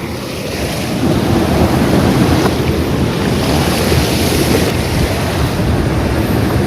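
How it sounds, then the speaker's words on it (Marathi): Loud, steady rush of water flowing out through village field embankments near a river, with heavy wind noise against the microphone, swelling after the first second and continuing unbroken. "या बांधांमधून पण पाणी येत आहे बाहेर"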